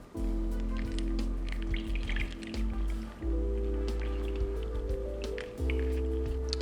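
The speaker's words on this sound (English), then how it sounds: "Then we have ½ ounce of fresh lemon juice." Fresh lemon juice, half an ounce, drips and trickles into a cocktail shaker for a Clover Club cocktail, close wet splashing and squishy liquid sounds in a quiet room.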